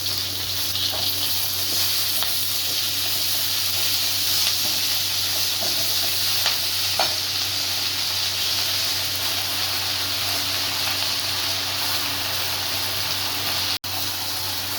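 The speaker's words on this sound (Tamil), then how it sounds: "வெங்காயம் பூண்டு வதங்கி வச்சு கீரை போட்டுக்கலாம்." Onion and crushed garlic sizzling in a pan before greens go in, a steady close frying hiss with faint crackles, continuous and even throughout.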